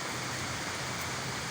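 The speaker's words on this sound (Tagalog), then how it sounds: "Napakalakas ng ulan." Heavy rain pouring steadily in Quezon City, Luzon, a dense, continuous broadband hiss with no breaks, close and fairly loud, with no voices over it.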